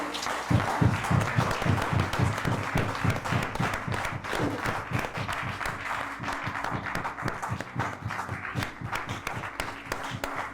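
A church congregation applauds with steady, dense clapping that holds at a fairly even level throughout, many hands together in a reverberant hall.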